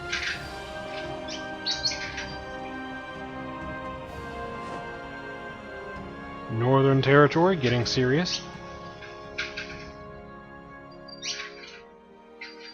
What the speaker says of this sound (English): Bird losing her mind.